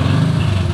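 A motorcycle engine runs hard in a brief, loud, close burst, a steady low droning roar without break and with no voices over it.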